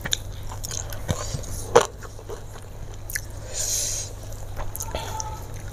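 Someone bites and chews crispy salted fish close to the mic, with crunchy bites, a louder crunch partway through and soft chewing between, over low background noise.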